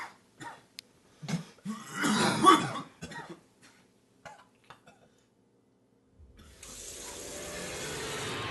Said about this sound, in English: Deal with the cough.